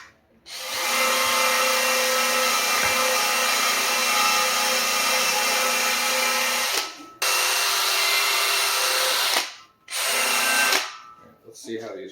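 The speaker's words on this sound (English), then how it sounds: "Throw this red wheel in the drill real quick." A power drill spins a red wheel while work is done on the fuel system of a TDI-swapped Ford Courier. The drill whines loudly and steadily for several seconds, then cuts into a few shorter bursts separated by brief pauses.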